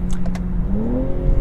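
A 2021 BMW M240i driving, its exhaust a steady close drone with rising pitch as the engine revs briefly, heard alone without talk.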